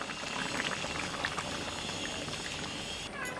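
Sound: thick coconut milk poured into simmering fish curry

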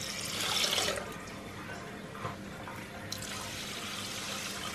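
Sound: pouring water into rice for steaming

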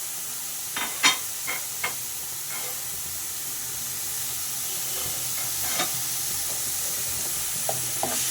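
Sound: stirring greens with chili flakes in a frying pan

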